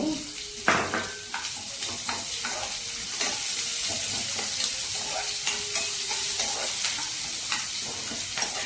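Onions frying in hot oil give a steady, close sizzle, punctuated by scattered clinks and scrapes of stirring in the pan.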